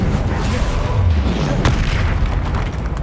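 A Confringo blasting spell detonates in Hogwarts Legacy, a loud, deep boom with a rumbling low end and a sharp crack partway through, set amid continuous game combat noise.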